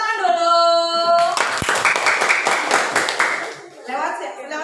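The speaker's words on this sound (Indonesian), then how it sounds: "Tepuk tangan dulu." Children in a classroom break into a short burst of hand clapping after a teacher's voice, the claps fairly close and mixed with murmuring voices before trailing off.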